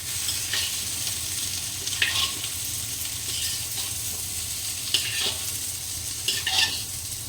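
Potatoes frying in hot oil in a home kitchen pan, a steady sizzle running throughout with several louder scraping stirs of a utensil against the pan, close and clear, no one talking.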